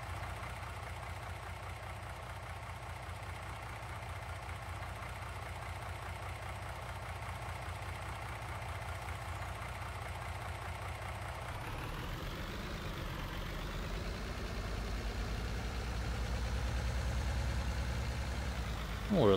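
Truck in Farming Simulator 19 idling with a low, steady diesel rumble, then revving and pulling away as the engine pitch rises and sweeps up, growing slightly louder toward the end.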